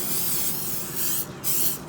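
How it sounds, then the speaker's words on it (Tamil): Cooking spray hisses from an aerosol can as it coats a cake pan for a simple carrot cake, two steady sprays with a brief pause between them, close and clear with no talking. "அதோட குக்கிங் ஸ்ப்ரே இதை நான் ஸ்ப்ரே பண்ணுறேன்."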